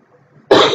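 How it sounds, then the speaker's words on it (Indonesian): A single sharp, loud cough bursts out close by after near silence. "Aduh batuk."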